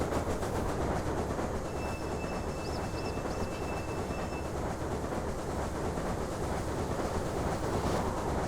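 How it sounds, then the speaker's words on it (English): A freight train in the railway simulation game Railway Empire rolls steadily past on its run toward Winnemucca, a continuous loud rumble of wheels and cars with faint whistle-like tones early on and no talking. "passing another freight train"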